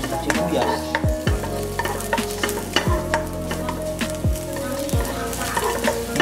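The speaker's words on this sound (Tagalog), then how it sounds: "Pag mainit na rin yung mantika, gisa na natin syempre yung bawang." Garlic sautés in hot cooking oil in a pan, a continuous close sizzle broken by repeated sharp scrapes and clinks of a utensil stirring.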